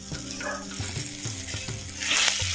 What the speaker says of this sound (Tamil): சேர்த்த அனைத்து பொருட்களையும் நல்லா எண்ணெயில் வதக்கு வதக்கு நல்லா வதக்கிக்கிட்டோம்